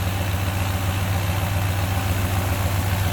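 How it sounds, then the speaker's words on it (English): A 1958 Edsel Citation convertible's E475 V8 engine idles steadily up close, a deep, even low-pitched rumble that holds without change. "It runs nice and smooth."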